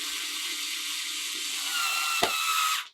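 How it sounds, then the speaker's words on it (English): A screw is driven back into the bolt-on neck of a Harley Benton electric guitar with a steady whirring tool for nearly three seconds, a brief sharp click near the end before it stops, close up with no talk. "Put the screws back in."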